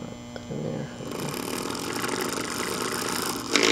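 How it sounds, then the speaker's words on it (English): A damaged PC power supply fan motor with shot bearings running, starting with a faint whir then rising after half a second into a rough, buzzing rattle that holds steady, close and moderately loud, with a brief louder burst at the end. "Incredibly, this fan motor still operates after that."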